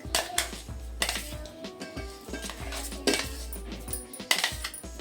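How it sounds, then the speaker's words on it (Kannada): Metal pot and utensil clatter as ground sweet jaggery-coconut filling for karigadubu is scraped and transferred into a cooking pot, with repeated close clinks and knocks in an irregular rhythm. "ಓಕೆ, ಇದನ್ನು ಪಾತ್ರೆಗೆ ಟ್ರಾನ್ಸ್ಫರ್ ಮಾಡ್ಕೊಳ್ತೀನಿ."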